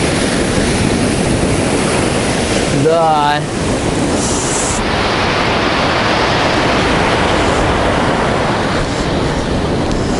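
Sea waves at Chkalovsky beach in Adler, Sochi, with murky water, crash and rush in a steady loud roar with wind buffeting the microphone; a brief voice speaks once partway through.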